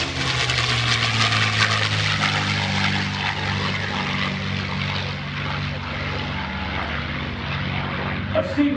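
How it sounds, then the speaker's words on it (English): A P-51 Mustang warbird flies past at the 2021 Greenwood Lake Airshow, its propeller engine a sustained, loud droning roar. An announcer's voice can be heard faintly under the engine noise. "Here's the P-51"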